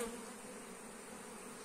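Honeybees hum steadily at an opened hive under inspection, a soft continuous buzz close by with no voices.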